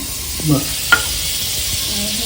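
Butter with green, yellow and red bell peppers sizzling in a pan for a paneer cheese bread pizza, a steady close frying hiss throughout with a few brief stirring scrapes and knocks.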